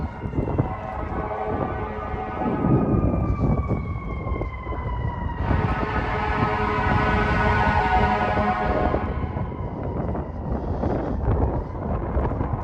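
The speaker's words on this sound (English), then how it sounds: "Man, I keep hearing all these damn sirens. That's gotta be there's the fire department." Wailing fire engine sirens sweep up and down over loud New York City street and engine noise, with a second siren joining partway through and wind buffeting.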